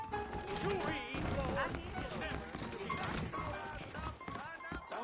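Horse hooves clip-clop in the western video game Red Dead Redemption as saddled horses stand ready out front, a quick clatter of steps mixed under talking voices and background game sound.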